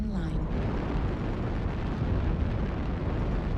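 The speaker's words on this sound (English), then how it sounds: "Target spotted. Airstrike online." An airstrike explodes in a mech combat video game, a loud, dense roar of rumbling blast noise that fills the whole stretch without easing.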